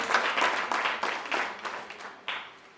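A church congregation applauds with scattered hand claps in uneven bursts, moderately close, fading slightly and then rising again near the end, with no clear talk over it.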